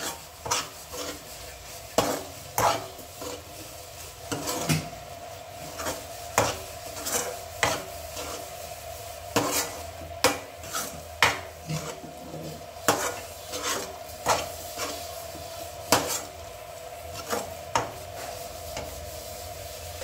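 A spoon scrapes and stirs ground spice powder into bitter gourd masala curry in a pan with repeated rhythmic strokes, each scrape a sharp rasp over a faint background hum.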